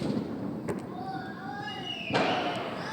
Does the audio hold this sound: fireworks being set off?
yes